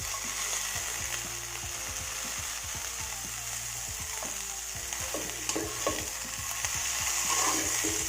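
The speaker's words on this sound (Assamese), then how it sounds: "যিখিনি মই জিকাৰ বাকলি ধুই লৈছিলোঁ সেইখিনি ইয়াতে দি দিম" Washed ridge gourd peels fry with onions in a pan, making a loud, steady sizzle broken by the repeated scrape and clatter of stirring.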